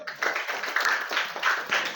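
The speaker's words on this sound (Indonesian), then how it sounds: "Tepuk tangan buat Ayu" A small audience claps for a presenter during a coding and artificial intelligence training session, a short, fairly light burst of hand claps with uneven rhythm that stays steady for a couple of seconds.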